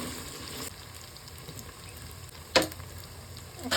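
Beef sizzles in a frying pan for a thin curry, a soft continuous crackle that stays low and even, broken by a couple of brief sharp clatters from a utensil.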